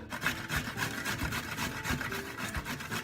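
Carrot and courgette being grated by hand: close, steady rasping strokes in a quick, even rhythm, continuous for a few seconds with no talking.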